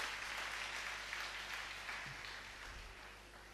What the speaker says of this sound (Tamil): பாவத்தை நான் வெட்டி போட்டுருவேன் சொல்றவங்கள கைதட்டுங்க